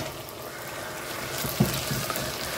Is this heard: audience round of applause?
no